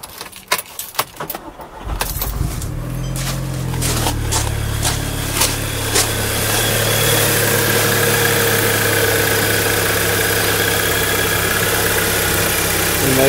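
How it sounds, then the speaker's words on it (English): Keys jangle first, then an Audi S3 fitted with a new engine cover starts and settles into a smooth, steady idle, close and continuous. "I think it's made the engine a little bit quieter as well."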